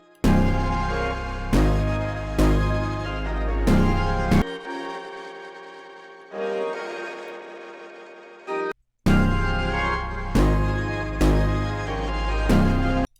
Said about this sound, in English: this is the bass line I'm going for